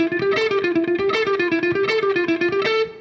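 Fast electric guitar picking at six notes per beat, a steady rapid stream of evenly spaced plucked notes alone and close, ringing out bright before stopping abruptly near the end.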